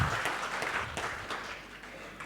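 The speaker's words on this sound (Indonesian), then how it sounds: "berikan tepuk tangan meriah buat Tuhan kita." A church congregation at a worship service applauds, a dense, moderately distant wash of many hands clapping that holds steady for a couple of seconds without talk.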